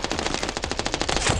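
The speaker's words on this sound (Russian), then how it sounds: "я всю обойму из дигла высадил" Rapid, sharp gunfire from a Desert Eagle pistol in the Standoff 2 mobile shooter, a loud rattling burst of around twenty evenly spaced shots with no pause.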